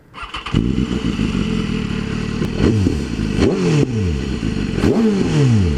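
A 2016 BMW S1000RR motorcycle engine cranks and fires up, then idles with a rough, throbbing rumble, blipping the throttle several times in quick revs.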